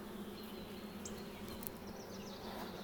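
Honeybees fanning on a board around a swarm cone trap give a steady, dense buzzing hum that stays at an even level throughout, with faint bird chirps above it.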